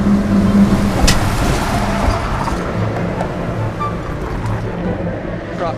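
A truck passes on a busy, noisy road in Hobe Sound, a loud close roar that gradually eases as it moves away over constant traffic rumble.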